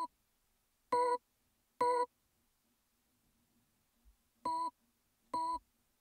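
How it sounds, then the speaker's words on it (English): Sampled melodic hits from a sampler instrument built from a random melody recorded through a Teenage Engineering OP-1 synthesizer: four short, bright, evenly pitched stabs in two pairs, clean and alone against near silence. "these are actually recorded through OP1 synthesizer, which is a synthesizer made by the Swedish company called Teenage Engineering"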